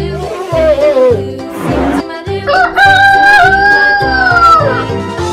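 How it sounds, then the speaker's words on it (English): A rooster crows close by, two drawn-out cock-a-doodle-doo calls, loud and clear. "Rooster."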